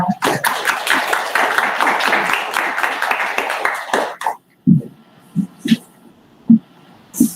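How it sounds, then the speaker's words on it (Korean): An audience at a youth policy proposal contest in Yongsan claps to welcome the event's hosts: dense, loud applause for about four seconds, then it stops abruptly and a few brief sounds follow. "많은 박수 부탁드리겠습니다."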